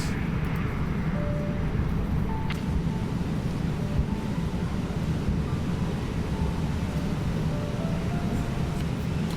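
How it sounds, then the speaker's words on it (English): Jet engine noise from an Eclipse 550 business jet, a steady broadband roar with faint tonal whines, continuous and moderately loud without pause. "That's the Eclipse 550. And it sounds good."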